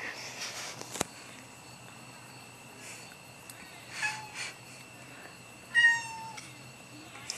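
A cat meows a few times, with faint, short cries spread through a quiet room. The clearest one comes near the end, along with a sharp tap and some light background noise.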